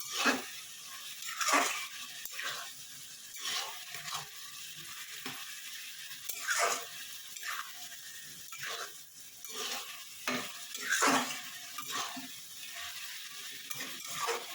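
Prawn curry mixture fries in a pan with a soft sizzle, while a spatula scrapes and knocks in an uneven series of strokes, close and moderately quiet, with no voices.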